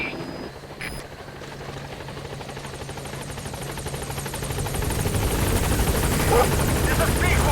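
In a video game, the Pequod helicopter arrives at a landing zone with rotor chop that grows steadily louder as it approaches, a brief radio-like voice heard near the start.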